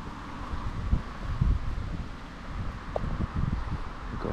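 Gusty wind buffets an outdoor microphone on an overcast, blustery day on the Norfolk Broads, a low rumbling roar that swells and eases with occasional soft knocks.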